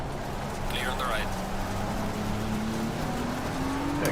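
Race cars in a racing video game, a steady engine drone with slowly rising pitch as a car accelerates, another car briefly whooshing past, under talk.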